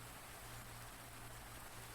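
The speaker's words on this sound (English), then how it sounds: "The rain bucketed down from above, soaking her to the very core." Steady rain pours down in a horror visual novel, a dense, even wash of falling water with no breaks, fairly quiet and continuous throughout.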